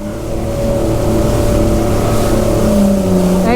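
A stand-up jet ski accelerates on the water, its engine a loud, close, steady drone that builds as throttle is applied, with splashing at the end and no talk.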